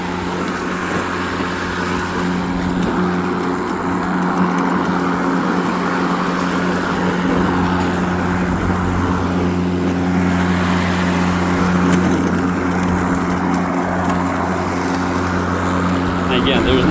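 A Ryobi 40V HP RY401170 brushless battery push mower runs with a steady, fairly quiet electric hum and whir that holds constant throughout, close by, with a voice talking over it.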